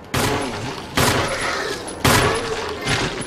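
Three heavy shots from a video game weapon land about a second apart, each a sharp loud blast trailing into a rumbling decay.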